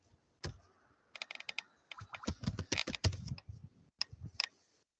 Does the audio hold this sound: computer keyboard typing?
yes